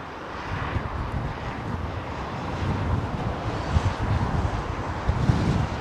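A United airliner takes off from runway 09R at London Heathrow, its engines a steady, loud broadband roar with a low rumble throughout, buffeted by gusting wind noise on the microphone.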